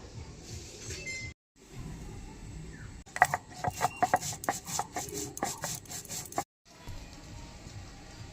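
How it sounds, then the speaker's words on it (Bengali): Spices such as poppy seed, white mustard and green chilli being ground by hand on a flat grinding stone in a village kitchen, a rough rhythmic scraping with a run of distinct strokes in the middle and quieter rubbing around it, no talk. "ঝিঙে দোরমার জন্য আমি এখানে একটু মশলা বেটে নেব, তারপরে ভিজিয়ে রাখা মটরের ডালগুলি বেটে নেব।"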